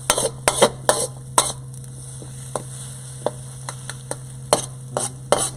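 Onions and mushrooms are stirred into leftover takeout rice frying in a pan, with a soft sizzle under repeated scraping and clinking utensil strokes over a low steady hum.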